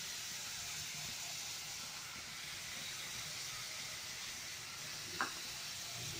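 Potato pieces and green chillies fry in hot oil with a steady, even hiss and sizzle that holds throughout, with one faint brief clink near the end.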